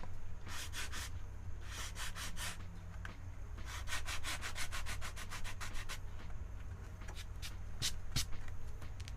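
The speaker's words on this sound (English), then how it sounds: "I was barely touching the surface there with the sandpaper, just gently gliding it around, guiding it, really." Sandpaper glides gently over an acrylic painting surface in repeated up-and-down strokes, a soft steady rubbing with rhythmic bursts of scratchy friction over a low background hum, no talking.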